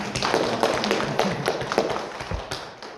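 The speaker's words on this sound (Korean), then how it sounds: "교수님께 다시 한번 박수 부탁드립니다" An audience at a lecture claps for a professor. The applause is moderate and steady, with many hands tapping close together, and it thins out near the end.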